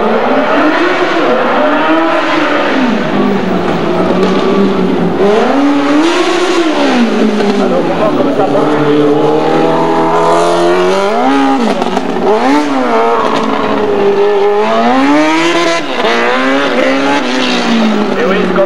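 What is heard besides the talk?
motorcycle engine at a 1991 car chase race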